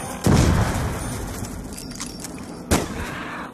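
Two loud gunshots in a zombie survival game set in a town, one near the start and a second about two seconds later, each a sharp burst with a trailing rumble over steady background noise.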